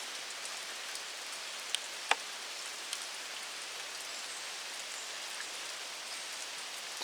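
Rain falling steadily on a barn roof during a downpour, a continuous soft hiss with a few sharper drops striking close by, no voices.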